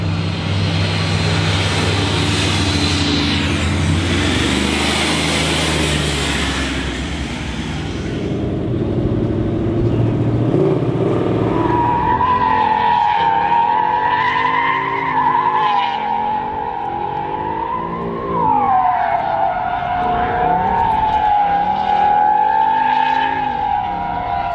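A 2018 Mustang RTR Spec 2 drifting on a race track, loud and close, with a sustained engine roar and long wavering tire squeal that rises and falls through the slides, with no talking over it.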